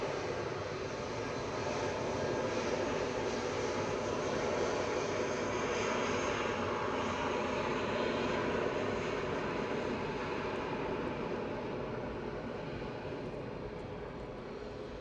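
A jet airliner at Edinburgh airport produces a continuous broadband engine roar. The sound is steady and fairly loud, fading slightly toward the end. No voices are heard.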